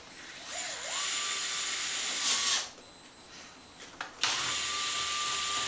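Power drill with a 5/32 bit whines while boring holes in RC truck suspension arms, running in a steady burst, stopping briefly with a few clicks, then spinning up again, close and alone without talk.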